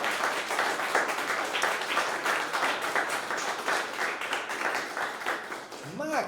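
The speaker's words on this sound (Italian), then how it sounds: "Facciamo un applauso a lei perché non è presente." An audience claps continuously in a loud, dense round of applause that holds steady throughout, with a voice briefly rising at the very end.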